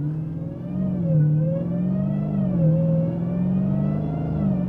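A Dodge Demon 170 with an 8-speed automatic gets up to speed, its engine note rising and falling smoothly through gear changes in a steady, moderately loud drone heard from inside the cabin.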